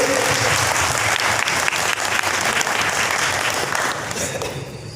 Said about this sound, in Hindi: एक बार अच्छी तालियां बुजुर्गों के लिए।